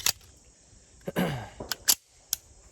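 Colt Delta Elite 10mm pistol firing, a few sharp, fairly quiet reports spaced irregularly over a couple of seconds, each a brief crack standing alone without talk.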